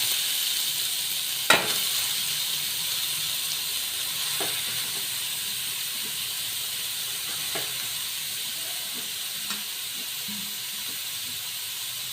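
Grated carrots sizzle in ghee for carrot halwa with a steady, even hiss of frying, broken by a few faint clinks of a utensil against the pan, with no voices.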